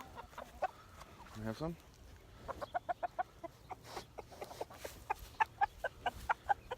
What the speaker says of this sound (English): the chickens came over